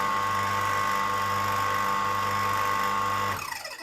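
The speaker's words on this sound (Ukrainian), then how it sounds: "Пройшов час і насос перезапустився. Далі почав працювати." A Pedrollo PKM60 domestic water pump runs with a steady loud motor whine and hum, then winds down and cuts out near the end, heard close with no talk.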